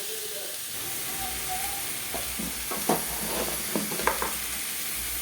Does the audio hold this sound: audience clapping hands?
no